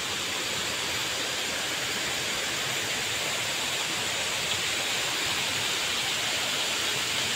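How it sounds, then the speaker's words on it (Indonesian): Small waterfalls at Curug Siklotok in Kaligesing, Purworejo, pour in a steady, dense roar of falling water that holds constant and broadband throughout, close and loud with no voices. "Di sini ada beberapa air terjun kecil."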